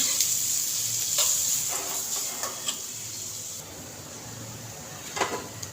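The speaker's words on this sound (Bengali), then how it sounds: "পেঁয়াজটা লাল করে ভেজে তুলে নেব।" Chopped onion frying in oil for pulao, a soft continuous sizzle with occasional light clicks and scrapes of stirring, fairly quiet and close, no talking.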